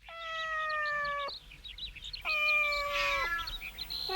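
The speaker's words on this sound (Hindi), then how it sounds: "यहाँ कितनी सारी बिल्लियाँ हैं, देखो जरा।" Cartoon cats meow in a park, two long, clear harmonic cries close by, each held about a second, with a brief pause between and fainter chirpy mews around them.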